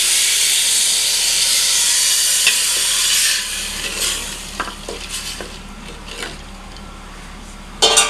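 Hot water poured into a pot of Old Dhaka-style chicken tehari: a loud steady hissing rush of steam and sizzle for a few seconds, then settling into quieter bubbling with faint stirring and pot clinks.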